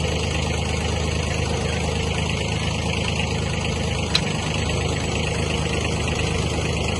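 Kubota B1-15 compact Japanese mini tractor running with its power take-off engaged, a steady, close diesel drone holding at an even level throughout with one brief click, and no talking.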